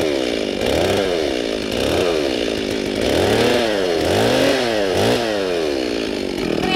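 A 12 kg chainsaw cuts an albasia tree at an angle, its engine rising and falling in repeated revving surges as it bites into the wood, up close with no talk.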